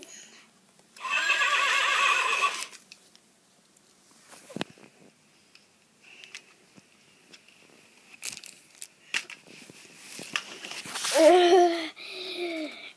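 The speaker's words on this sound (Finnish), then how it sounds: "Tän hevonen." A horse neighs in a Littlest Pet Shop cartoon: a loud, sustained whinny opens the scene, followed by scattered light knocks and rustles, then a second shrill, wavering whinny near the end.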